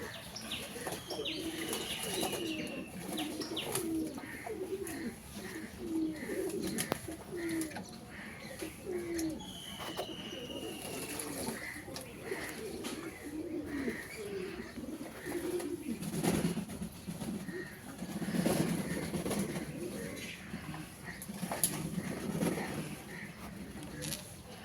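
Pigeons bathing in potash water coo steadily at close range, with wing flaps, splashes and faint chirps mixed among the low, continuous calls.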